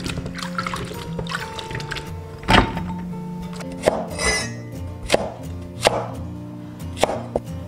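Knife chopping fresh okra on a board in a home kitchen, a series of sharp, irregular thuds with a few louder cuts standing out, near and clear over faint background hum.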